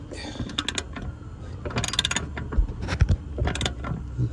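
A ratchet wrench clicks in short, uneven bursts while turning a 17 millimeter socket on a car's rear control arm bolt, close up with some mechanical rattling.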